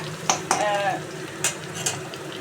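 Chili dropped into a hot pan starts frying with a bright crackling sizzle, punctuated by a few sharp utensil clinks and stirring scrapes, close and moderately loud with no voices.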